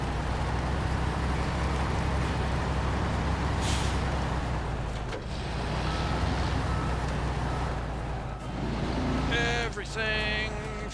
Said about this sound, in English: Handbrake.